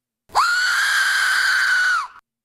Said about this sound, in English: this is what they say is the most terrifying sound ever heard. It's called the Aztec Death Whistle.